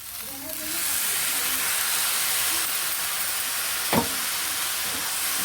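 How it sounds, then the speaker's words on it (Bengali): Spice-mixed water poured into a pan of cooking vegetable pasta, setting off a steady, loud steamy hiss that runs throughout, with a brief sharper burst near the end. "এই জলটাকেই আমি পুরো এতে দিয়ে দেবো"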